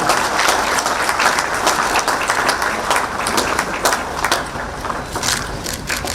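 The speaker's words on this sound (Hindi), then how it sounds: "जोरदार तालियां" Sustained applause from an audience at a student event with Jharkhand's chief minister, dense steady clapping at full volume throughout, with no speech over it.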